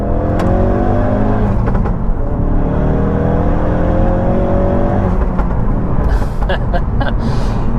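A Collins Performance CP2-tuned Mk3 Ford Focus RS pulls hard through second gear, heard from inside the cabin as a loud, steady engine drone that climbs in pitch through the rev range, with a brief lift and re-acceleration near the end.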